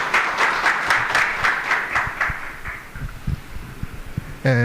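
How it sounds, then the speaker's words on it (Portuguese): An audience at an Open Data Day talk gives a round of applause, with evenly paced clapping that gradually thins and fades over a few seconds before a voice starts at the end. "salva de palmas para o Abud"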